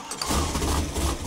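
A Chevy crate 427 V8 on an engine dyno, running on 93 octane, cranks and fires, then settles into a loud, rough, throbbing idle that fills the short stretch.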